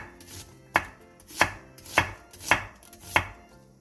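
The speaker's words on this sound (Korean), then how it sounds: "양파 2분의 1개를 채 썰어주세요." A knife slices half an onion into thin strips on a cutting board, giving five sharp, evenly spaced chopping knocks at a steady rhythm, close and clear with no talking.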